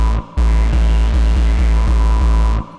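Electric or synth bass line in a dub-style music production, drenched in reverb: steady rhythmic low notes with a sustained reverberant wash, loud and alone, starting abruptly and cutting off near the end.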